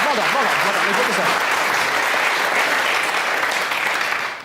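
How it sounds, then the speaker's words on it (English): A studio audience gives a full, steady round of applause for a contestant named Joe after he correctly picks the green chair at a Derren Brown show. A voice briefly overlaps the start. "Round of applause for Joe."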